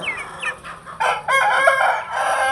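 A rooster crows loudly nearby, a strained drawn-out call following a few short clucks and squawks.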